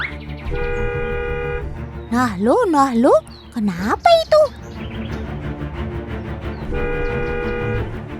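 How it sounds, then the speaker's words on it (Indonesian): A car horn blares in long steady honks at the start and end as monkeys swarm the car, with animal-like squeals and excited talk in between. "kamu tuh yang injek klakson mobilnya"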